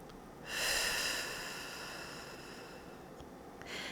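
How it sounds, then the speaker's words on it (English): One slow breath during a guided meditation, a soft airy inhale rising then trailing off, faint and close, with no talking. "And just keep breathing."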